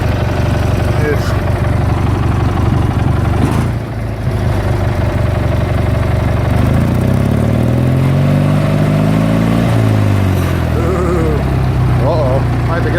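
A vehicle in high range strains to pull a load with its tires spinning, the engine loud and close with revs climbing and falling in the middle, over constant rough rumbling noise.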